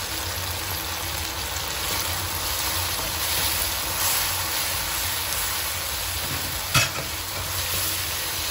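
Mushrooms and carrots stir-frying in a hot pan for noodles with vegetables, a steady close sizzle and crackle with a brief louder clatter near the end, no talking.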